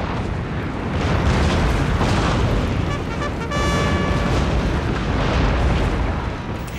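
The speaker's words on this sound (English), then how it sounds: "if you go into battle with a fleet nearby, you can call in support with some devastating naval bombardment" Naval bombardment in Total War: Shogun 2, a loud continuous roar of overlapping explosions and rumbling booms that holds for about seven seconds, with a brief metallic ringing tone in the middle.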